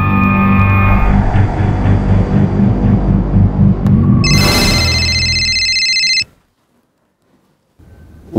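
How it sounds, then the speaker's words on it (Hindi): A telephone rings with an incoming call in a TV crime drama scene, a bright electronic ringtone lasting about two seconds after a low throbbing background, then cutting to silence. "वाइफ का फोन, जल्दी शॉर्ट बात कीजिएगा।"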